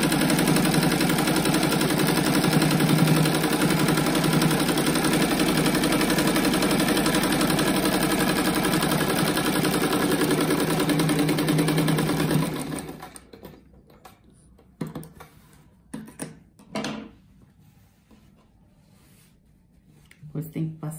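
A sewing machine stitches fabric squares for a rug with a rapid, continuous mechanical whirring that runs close and steady, then stops, leaving scattered short handling noises.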